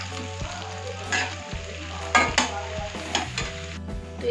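Jackfruit curry is stirred and fried on high flame, with a constant loud sizzle and repeated scrapes and clanks of a spatula against the pan.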